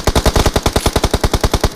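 Rapid automatic gunfire in the mobile battle game PUBG Mobile, a burst of about fifteen evenly spaced loud shots fired in quick succession.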